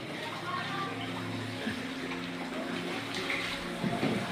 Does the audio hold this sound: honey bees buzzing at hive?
no